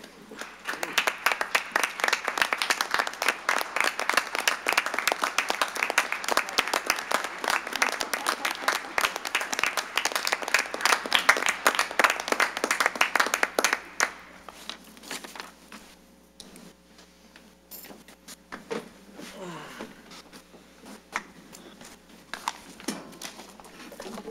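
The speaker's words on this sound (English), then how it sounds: "Please join me in standing for a round of applause to salute this championship team" Standing round of applause at a city council meeting, dense steady clapping for about fourteen seconds before fading to scattered claps and room noise.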